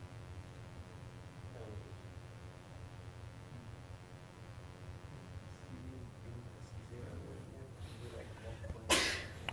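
A single sharp sneeze bursts out near the end over the steady hum of a math classroom lecture.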